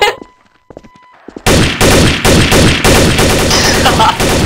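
Gunfire in the Garry's Mod jailbreak video game: after a short quiet beep, a loud rapid burst of shots erupts, close and continuous like a machine gun volley.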